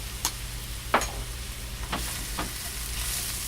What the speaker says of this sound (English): going to put some leeks in first and some garlic